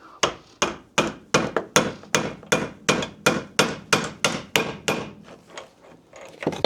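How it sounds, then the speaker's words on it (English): A hammer strikes a slotted screwdriver wedged between the links of a Honda XR200R motorcycle chain to drive out the pins, about eighteen sharp metallic blows at a steady, even rhythm, loud and close, with no talking. "Take a slotted screwdriver, put it in between those links, and hammer it through."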